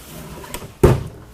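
A drawer on a Craftsman rollaway tool chest, bought new in 1983, slides with a soft rolling rumble, then shuts with one sharp, loud metallic thump, all up close in a workshop.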